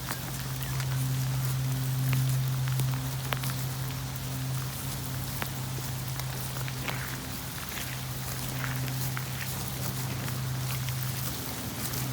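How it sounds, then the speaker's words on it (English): Steady winter rain patters down in Australia across the whole stretch, with a low constant hum running underneath and scattered drips standing out now and then. "some fairly uncharacteristic winter rain we're having, which is absolutely gorgeous"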